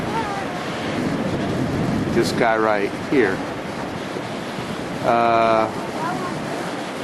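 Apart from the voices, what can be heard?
ocean waves breaking at Crystal Pier, San Diego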